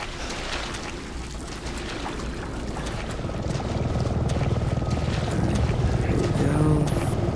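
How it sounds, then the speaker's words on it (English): A helicopter passing overhead in the game Resident Evil 7, a low, continuous rotor drone that grows steadily louder and nearer, mixed with water and boat-like rumble, while someone talks over it. "Looks like there's a helicopter flying over."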